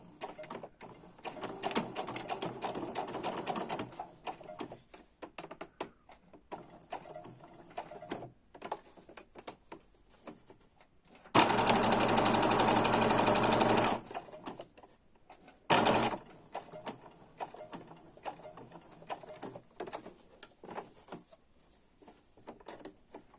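A sewing machine stitches hanging car decor in a steady burst of about three seconds, followed by a short second run. Quieter handling and rustling noises fill the gaps around the stitching.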